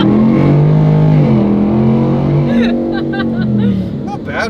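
Stock pickup truck doing a burnout, engine held at high revs with a sustained droning roar and tire spin, shifting pitch before easing off, with squeaky sharp tones near the end.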